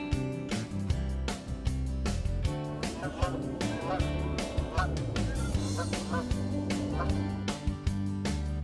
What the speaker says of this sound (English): And don't forget our friendly geese.